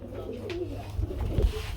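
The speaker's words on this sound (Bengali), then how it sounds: "এক জোড়া রাজগোল্লা কবুতর চলে আসলো" A pair of Rajgolla pigeons with pot-shaped necks coo softly nearby, with a low, rolling warble and a couple of faint thumps, fairly quiet in a market cage setting.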